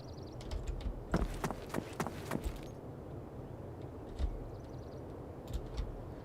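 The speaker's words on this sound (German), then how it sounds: "Es ist nämlich wirklich so, dass man die Schritte von anderen Spielern ziemlich laut hört." Another player's footsteps in Arma 3, a run of quick, soft crunching steps clustered near the start, then a few isolated steps over a steady low ambient rumble of the game world.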